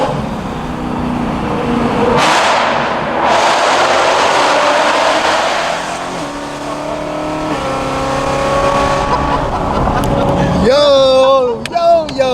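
A BMW E92 M3 V8 engine roars and revs, rising and falling in pitch as it accelerates, with a brief excited voice near the end.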